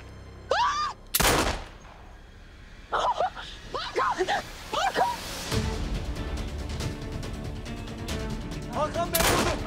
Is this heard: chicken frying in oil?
no